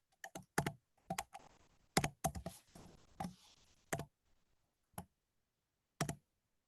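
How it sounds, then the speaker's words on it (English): Typing on a computer keyboard during an online meeting: a run of sharp, uneven keystrokes, some in quick bursts and others spaced singly, close and clear with no talk over them. "We can hear you typing."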